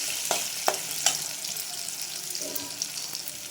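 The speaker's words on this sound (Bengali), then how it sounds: "তেল আমার কিছুটা গরম হয়ে গেছে, আমি আলুটা দিয়ে দেবো।" Potato pieces fry in a small amount of hot soybean oil, giving a steady, fairly soft sizzle broken by a few sharp clinks and scrapes of a utensil stirring in the pan.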